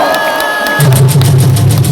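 An audience at a Liberty Unification Party gathering at the 63 Building breaks into applause, with dense, rapid clapping starting after a brief pause and carrying on over a low hum.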